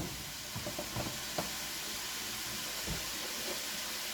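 Onion and celery sautéing in a soup pot for stuffed cabbage soup, a steady broad sizzle with occasional soft stirring knocks and scrapes, close and even throughout.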